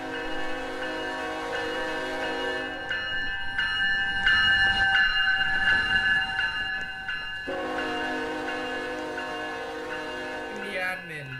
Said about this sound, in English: Oh, the intermodal train is passing through.